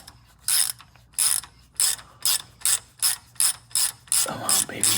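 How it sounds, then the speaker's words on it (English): Ratcheting tap handle chasing threads in the engine block deck of a 1937 Packard Super Eight, giving about nine regular bursts of ratchet clicking, close and crisp, with no voices. "I love the ratcheting tap handle set, which is basically the same as pass-through ratchets from Gear Wrench."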